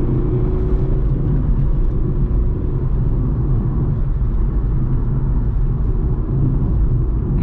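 A 2020 VW Voyage 1.6 with a manual gearbox drives at night, giving a steady, loud, low cabin rumble with road and engine drone that holds evenly throughout, with no talking.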